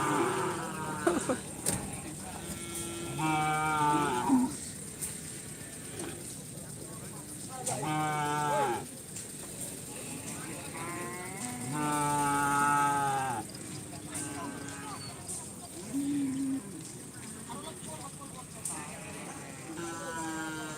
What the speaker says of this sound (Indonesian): Sapinya banyak bos.